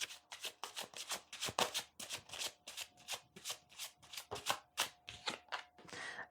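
Tarot cards are shuffled rapidly up close, a fast run of crisp riffling bursts in steady rhythm, ending with softer handling as a card is drawn.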